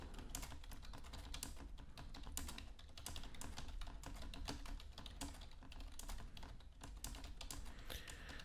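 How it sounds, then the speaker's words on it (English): Steady, rapid typing on a Logitech K400 Plus keyboard, a dense run of soft clicky keystrokes close by with no voices. "Let's do a typing test to see how it sounds."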